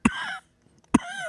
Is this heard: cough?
yes